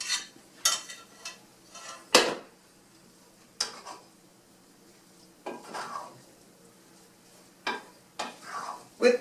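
Long grain rice and a second rice dish are stirred together in a pot, giving a series of scraping, clinking spoon strokes spaced irregularly with quiet gaps between them.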